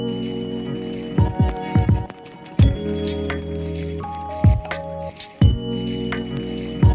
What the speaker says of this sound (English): So mix it well with a whisk again